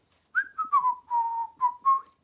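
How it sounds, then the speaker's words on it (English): A person whistles a short, wavering tune of about six quick notes and slides, clear and close, with nothing else heard. "I hate the sound of whistling."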